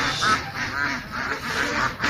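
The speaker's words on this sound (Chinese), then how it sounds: "这只鸭子有点横行霸道，走在马路上" A domestic duck on a farm road quacks loudly and close by in a steady run of about five quacks, with no talk over it.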